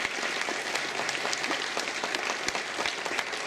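Sustained applause from a conference audience at a congress in Capilla del Monte, Argentina, for Jorge Suárez; steady dense clapping fills the room from start to end, with no voices heard.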